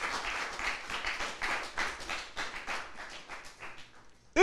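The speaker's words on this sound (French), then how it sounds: "merci de les applaudir très fort" Studio audience at the French quiz show Arène des champions claps for team Punisher, a dense, steady patter of hands lasting about four seconds before it fades out, followed by a short, bright tonal jingle at the very end.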